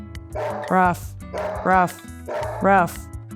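Dog barking three times at an even pace, each a close, loud bark rising into a whiny yip, with short gaps between them.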